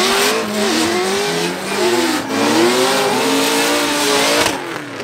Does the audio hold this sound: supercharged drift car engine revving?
yes